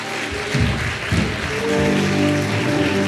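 A church congregation claps together at a Portuguese-language thanksgiving service, a steady mass of hand claps filling the room with low hum and a few louder bursts near the start.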